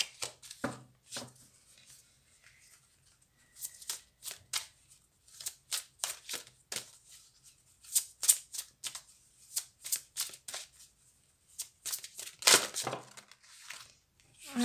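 Tarot cards being shuffled and turned over by hand, a run of quick, close papery flicks and riffles in short bursts, some sharper snaps near the end, with no talking.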